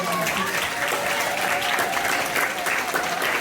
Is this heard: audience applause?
yes